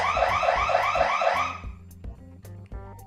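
During a rainstorm power outage, an alarm blares with loud, rapidly repeating warbling tones for about a second and a half, then cuts off, leaving faint hums and clicks.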